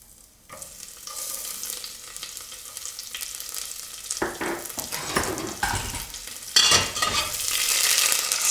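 Green chilies and ginger sizzle in a hot pan while upma is made. A soft start quickly builds into a steady, close crackling fry with a few scraping stirs, and it gets louder near the end.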